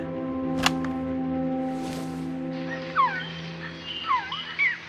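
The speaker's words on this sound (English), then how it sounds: "What is that? A Quetzal? The phoenix bird." A recorded quetzal call plays in Metal Gear Solid: Peace Walker: a sequence of sharp, swooping chirps that rises clearly over a sustained electronic hum in the second half.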